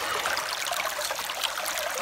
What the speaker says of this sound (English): I don't know if I have enough water flow or not for here.